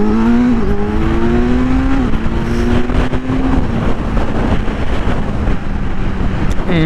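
A higher-displacement motorcycle pulls away hard from a green light, its engine note climbing through several gear changes, loud and close with wind rushing over it.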